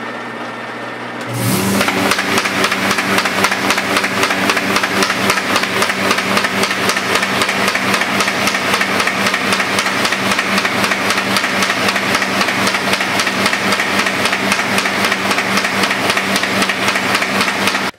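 A Baum 714XLT Ultrafold tabletop paper folder starts up with its rollers on, then runs at a steady, fast mechanical clatter with a constant hum, loud and continuous with no talking.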